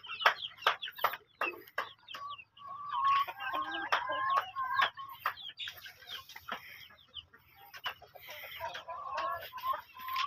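Hungry chickens waiting to be fed cluck and squawk close by, a busy flock of overlapping calls and short cries going on nonstop, with a crow-like call among them.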